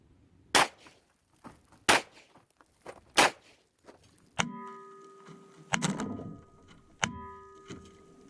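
A Hi-Point 10mm pistol carbine fires at steel targets, giving about six sharp, loud reports spaced a second or so apart. The later shots are followed by a ringing metallic ping from the struck plates.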